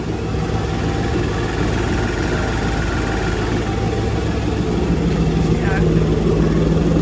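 Steady drone of an aging boat engine on a test run, a continuous low-pitched idle at even volume with a short faint squeak toward the end.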